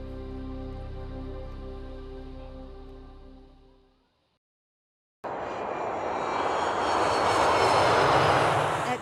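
An airplane engine at Tampa International Airport, a loud sustained tonal drone that fades out, then after a brief silence a broad, powerful roaring rush that stays strong to the end.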